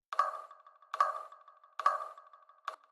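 Four eerie, pitched electronic pings from a frequency-shifted alarm sample repeat at an even pace, each one trailing off into a fading delayed echo, with silence between.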